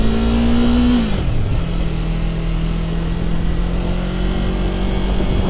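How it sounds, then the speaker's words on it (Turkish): A 2022 Yamaha MT-03 motorcycle on its stock exhaust revs up, then drops back to a steady, close, loud idle with a low rumble. "Stok egzozu. Pıtı pıtı pıtı pıtı pıtı pıtı."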